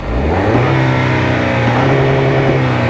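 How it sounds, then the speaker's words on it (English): A steady engine drone heard from inside a Toyota Tacoma pickup's cab, with a whirring rise as the turbo spools under load. "sitting inside here, you still get the turbo sounds"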